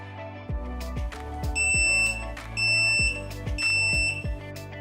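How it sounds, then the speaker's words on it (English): A Nauticam underwater camera housing's moisture alarm electronics give off a loud repeating beep pattern, with short tonal pulses recurring in clusters over a few seconds and no talking. "Nauticam's moisture alarm electronics are included"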